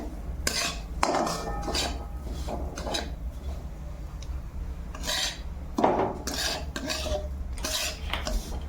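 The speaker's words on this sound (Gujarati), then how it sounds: "હવે આપણે એમાં રવો ઉમેરશું। રવાને આપણે બરોબર શેકવાનું છે।" Semolina stirred and roasted in hot ghee in a pan: repeated scraping strokes of a spoon against metal, close and fairly loud, in irregular bursts over a low sizzle, with no talking.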